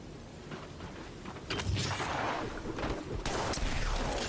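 Gunfire in the video game Apex Legends, a series of sharp booming shots and bursts at low level, some clustered rapidly, with a muffled, distant quality.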